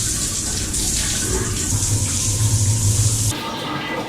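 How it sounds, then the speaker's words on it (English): A shower in an airport runs with a steady, close splashing hiss that shifts slightly as the flow changes, then cuts off abruptly near the end. "A shower in the airport really is one of life's little luxuries"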